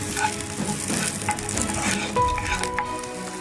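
Chopped onion sautés in hot oil for fried rice, giving a steady close sizzle and crackle with light stirring throughout, no talking.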